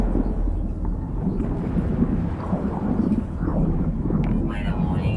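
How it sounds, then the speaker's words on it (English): A thunderstorm in the video game No Man's Sky rumbles continuously, deep rolling thunder and wind-like roar filling the scene at close, loud level with no clear break. "Weather warning. Incoming storm."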